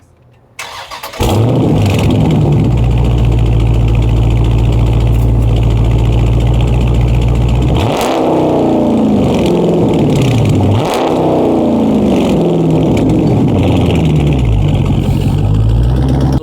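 Car with its mid muffler deleted starts with a sharp catch, settles into a loud steady idle, then gets two throaty revs that rise and fall before returning to a rumbling idle.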